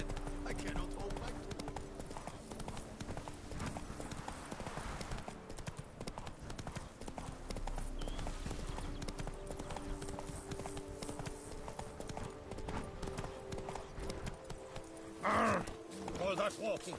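Roach the horse gallops in The Witcher: Blood and Wine, hooves drumming in a fast, steady clip-clop throughout, with voices talking over the game sound.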